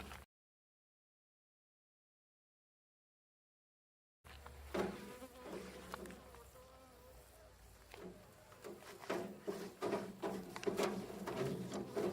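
Honey bees hum and drone around beehives after a silent opening, the steady buzzing rising and falling with a few nearer passes, with faint movement at the hives.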